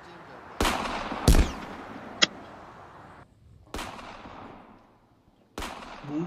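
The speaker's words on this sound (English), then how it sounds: "Who's letting fireworks off this time in the morning?" Fireworks set off in the morning: four loud, sharp bangs spaced a second or two apart, each trailing a long fading rumble, with a brief high crack between the first two.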